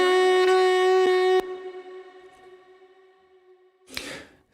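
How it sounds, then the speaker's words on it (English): A saxophone note cuts off and its reverb tail fades away, then a short, audible breath from the player comes near the end, soft and airy in the quiet. "You hear this breath at the end when I stop."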